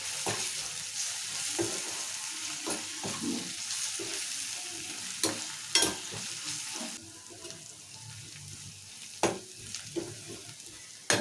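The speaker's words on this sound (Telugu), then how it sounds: "అల్లం వెల్లుల్లి పేస్ట్ మంచి పచ్చివాసన పోయేలాగా ఫ్రై చేసుకుందాము" Ginger garlic paste with turmeric and coriander powder frying in a pan, a steady close sizzle broken by repeated scraping stir strokes, with no talk.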